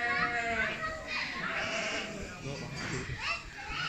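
Sheep bleating on a farm among goats and other livestock, several wavering calls mixed with nearby chatter and children's voices, fairly close and moderately loud.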